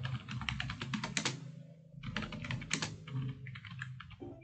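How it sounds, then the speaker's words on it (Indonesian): Typing on a computer keyboard while entering a command during a TeamTalk server setup on Ubuntu Linux 20.04: bursts of quick, close key clicks with a short pause midway and no talk. "Sekarang kita ketikkan komen gini ya."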